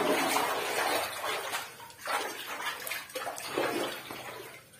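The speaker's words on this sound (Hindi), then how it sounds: "अब आपको देखते रहे हो वीडियो में आ रहा है पानी, कितना पानी है देखो।" Water rushes and splashes inside a cave, a close, fairly loud flow that surges in uneven waves with brief dips between them and no talking.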